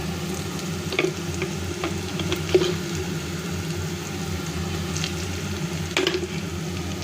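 Salted masala paste mixed with oil fries in a pan for a Bengali hilsa fish dish, giving a steady low sizzle with occasional sharp ticks and stirring clinks, close and continuous, with no talk.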